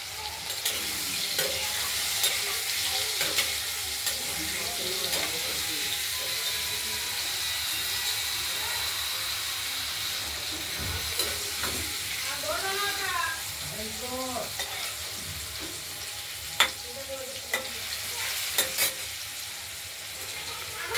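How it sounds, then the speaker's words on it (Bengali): Potato pieces fry with a little salt and turmeric in a pan, giving a steady sizzle throughout with scraping stirs and occasional clicks, while a voice speaks briefly partway through. "আলুগুলো ভাজা ভাজা হয়ে আসছে"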